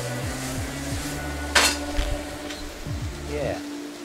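Celery and onions cook in a pan, a soft sizzle under repeated scraping and clanking strokes of a utensil against the pan, close up, with one sharp metallic knock midway.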